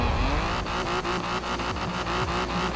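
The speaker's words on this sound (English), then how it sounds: "A lot of wheels spin off the line" Racing cars in Forza Horizon 4, including an Austin 7 and Triumph TR7, rev hard with wheelspin off the start line, a layered engine whine with pulsing, rising tones and repeated sharp clicks.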